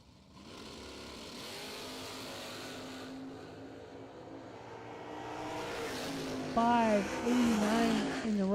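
Dragsters roar down a drag strip at a bracket racing event. Engine noise builds steadily and rises into loud revving, pitch-sliding tones near the end, with an announcer talking over the track.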